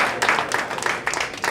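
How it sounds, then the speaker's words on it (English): A small audience at a press conference in a sports bar gives Adam a round of applause, with uneven clapping that stays fairly close and steady for a second or two. "Give Adam a applause."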